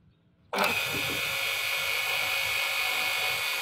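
An electric motor with a starting capacitor switches on abruptly and keeps spinning with a loud, steady whine and hum, close by and without speech.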